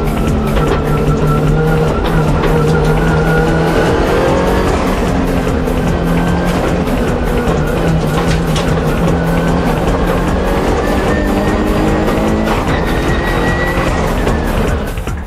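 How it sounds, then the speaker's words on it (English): A Subaru Impreza and a Nissan S15 race hard down a mountain touge pass toward a downhill corner, engines roaring loud and continuous with shifting revs throughout, tire noise mixed in. "But Orido's Impreza is closing in on the downhill corner."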